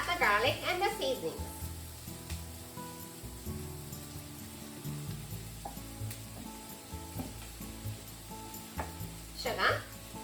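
Pork and onion sizzle in a hot pan as garlic and seasonings go in, a steady crackling fry with occasional louder stirring clatters near the start and end.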